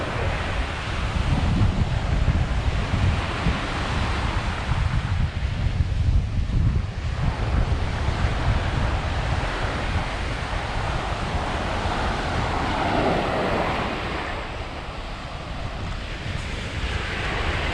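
Wind buffets a camera mic at the long beach of Nha Trang, with surf rumbling steadily underneath throughout; a brief lull near seven seconds, no talking.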